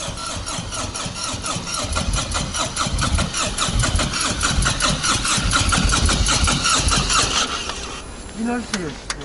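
A Harley-Davidson motorcycle engine is started in cold winter weather, its loud, steady, throbbing idle close by. It changes near the end with a rising whine, and a person talks over it throughout.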